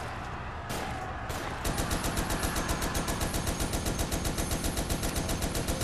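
Rapid turret gunfire in the Toy Soldiers War Chest video game, opening with a few separate bursts before settling into a steady, dense machine-gun rattle that carries on loud and continuous without any talk.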